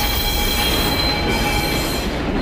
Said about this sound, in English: This train is so fast!